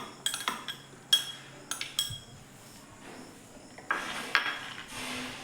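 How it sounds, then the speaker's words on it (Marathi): Chopped onion spooned into a mixer jar, giving light clinks and taps of a spoon on the jar's rim in quick scattered clusters, quiet and close, with a soft rustle near the end. "एका मिक्सरच्या भांड्यामध्ये आपण जो चिरून घेतलेला कांदा आहे तो टाकून घेऊयात"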